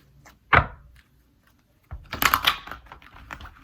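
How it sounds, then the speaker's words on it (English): A quick oracle card tap, a pause, then a close burst of crisp riffling shuffle sounds tapering into light flicks. "do one more shuffle"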